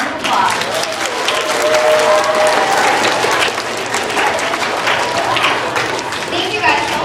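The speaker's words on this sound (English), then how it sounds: "So let's all give Captain Chemo a round of applause." A school assembly audience claps for a student playing Captain Chemo, loud, busy applause with children's cheers and chatter running through it.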